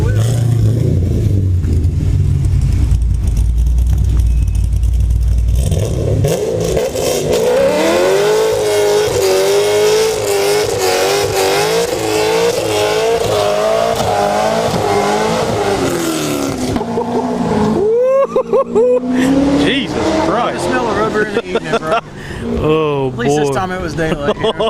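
A 2010 Camaro SS on a dyno does a burnout, its V8 roaring loud and close, climbing in pitch through sustained revs with wavering wails and tire squeal, while people talk and shout over the noise.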